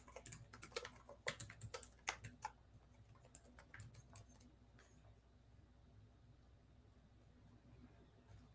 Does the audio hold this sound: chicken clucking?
no